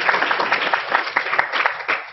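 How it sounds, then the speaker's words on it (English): Audience applause at a prize award and closing ceremony, a steady dense clapping from a crowd that carries on loudly throughout with no talk over it. "So just to give you all a round of applause."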